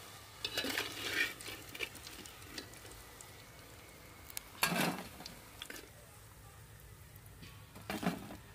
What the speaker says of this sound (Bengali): কোপ্তাগুলো ভাজা হয়ে গেছে এবার তুলে নেবো